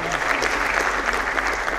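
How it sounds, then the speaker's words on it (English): Guests clap steadily through a wedding ceremony after the couple exchange vows, the applause filling the room evenly from start to finish. "I think that deserves a real round of applause."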